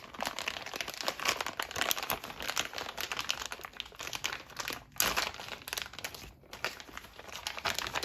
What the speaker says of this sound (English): So I'm just going to go ahead and take this tape off.